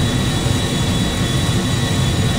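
An airplane engine in Grand Theft Auto V gives a loud, steady broadband roar with a deep rumbling low end, droning continuously without pause or speech.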